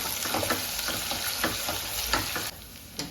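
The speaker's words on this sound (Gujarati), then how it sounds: "હવે એમાં ડુંગળી નાખીશું એને પણ થોડી સવા દઈશું" Onions fry in a pan for dal pulao, giving a steady, close hiss of sizzling oil broken by brief scrapes of stirring, with no speech over it.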